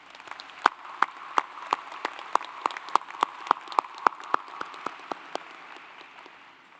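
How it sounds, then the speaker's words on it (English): Hands clap for doctoral graduates at a Clemson University commencement in Littlejohn Coliseum: sharp, evenly spaced claps ring out close over a soft bed of wider crowd applause, then taper off. "Let's give them a round of applause"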